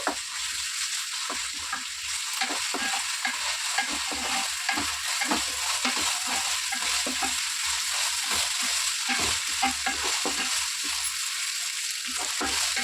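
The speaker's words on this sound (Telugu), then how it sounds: "ఇవ్వండి అల్లం పేస్ట్ వేగిపోయింది బాగా" Ginger paste fries in a pan with curry leaves and onions, giving a steady close sizzle broken by frequent scraping strokes of a stirring spoon, with no voices.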